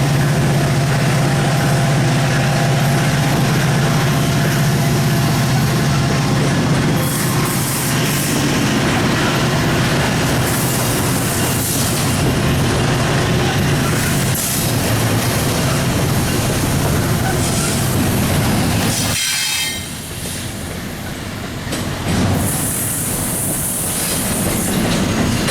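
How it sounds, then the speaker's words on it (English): A long double-stack container freight train rumbles past close by in Longview, wheels clacking steadily over the rails, with occasional metallic squeals and a brief dip near the end. "that stack train just passed"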